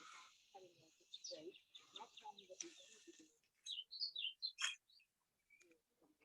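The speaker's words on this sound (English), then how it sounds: "Nice to hear the birds singing, isn't it?" Outdoor birdsong near an oak tree in spring, a run of bright chirps and short whistled phrases, moderately close after some quiet talk.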